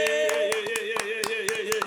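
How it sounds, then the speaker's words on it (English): Applause and cheering welcome a guest onto a podcast set, sharp claps rising repeatedly over a steady musical background with some voices. "Round of applause for one of the number one female artists in New York City."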